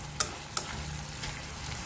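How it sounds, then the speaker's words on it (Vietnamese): Tofu skin is stir-fried in tomato sauce for a vegetarian dish, with soft, continuous sizzling and two sharp utensil scrapes against the pan early on. "Các bạn cho tàu hũ ki vô, các bạn xào sơ là được"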